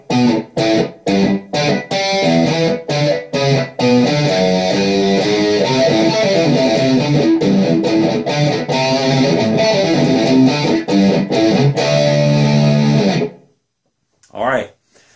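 Electric guitar playing a riff, loud and close, opening with choppy stabbed chords and moving into a sustained, driving riff, then a short pause and a brief spoken voice at the end.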